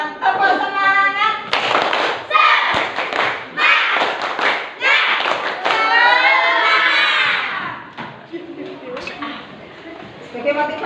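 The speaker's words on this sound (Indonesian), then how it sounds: "Sebelum kita pelajaran, tepuk semangat." Schoolchildren in a classroom do a rhythmic spirit clap, bursts of patterned hand claps mixed with loud group chanting and a teacher's voice throughout.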